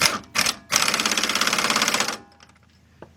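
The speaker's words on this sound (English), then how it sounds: "So I'm going to get my air gun on the other side," Air impact gun with a 15mm socket tightening a front strut bolt on a 2008 Ford Fusion, two short bursts then a longer rapid hammering rattle, loud and close, ending in faint clinks.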